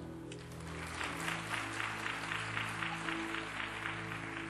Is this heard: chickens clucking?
no